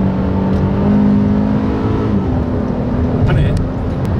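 A Honda Pilot SUV's VTEC gasoline engine revs hard and high while held in third gear, a loud, steady droning hum heard from inside the cabin as people talk over it.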